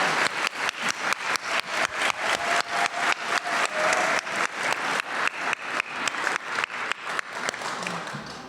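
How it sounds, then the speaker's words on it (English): Audience at a 150th anniversary gala for CPA breaks into sustained, even applause, many hands clapping steadily for over eight seconds, loud and close with a slight taper at the end. "Let's give a round of applause for everything you do every single day."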